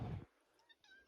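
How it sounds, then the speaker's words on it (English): An alley cat in a workshop gives a couple of short, faint meows, one right after the other, following a brief louder noise at the start. "There's our alley cat."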